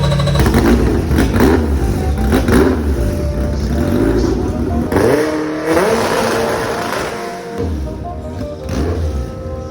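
Motorcycle engine revved hard during a sound check at a Motul event, loud rising and falling bursts of throttle repeating over several seconds, with a crowd and voices audible underneath.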